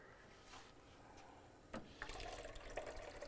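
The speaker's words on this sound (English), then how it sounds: "the brew boiler is filling with water" Crem One Profiler espresso machine brew boiler filling with water, a quiet running, gurgling flow that grows louder and busier partway through, heard alone and close.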